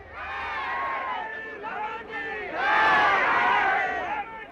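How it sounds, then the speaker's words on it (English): Crowds in India in April 1959 welcoming the Dalai Lama into exile, heard as a dense archive recording. Massed voices shout and chant in swelling waves, growing louder toward the end. "This is the moment when the crowds welcomed Tibet's spiritual leader, the Dalai Lama, as he arrived in exile in India in April 1959"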